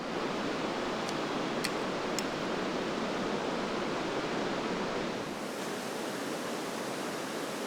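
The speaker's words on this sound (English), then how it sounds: "The only sounds you hear are the rush of the Dude Kosi River," The Dudh Kosi river in Nepal rushes in a loud, steady roar of whitewater, broad and continuous throughout, with a few faint high ticks early on.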